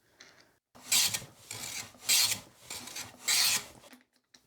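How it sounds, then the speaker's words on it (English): A hand plane shaves thin wooden panels on a long-grain shooting board, giving three or four close, rasping strokes with brief pauses between them. "I've been wanting to try planing some thin panels."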